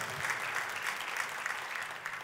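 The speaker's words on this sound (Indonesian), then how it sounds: "Kita kasih tepuk tangan yang paling meriah buat Tuhan kita" A church congregation applauding during a sermon, a soft, distant, even patter of many hands clapping with no talk over it.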